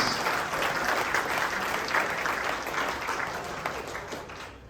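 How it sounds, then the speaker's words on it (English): A large banquet audience at a volleyball All-America awards dinner gives a sustained round of applause, a thick, even wash of clapping from many hands heard at a distance that tapers slightly at the end. "Let's have one round of applause for our AVCA 2023 Collegiate Second Team All-Americans."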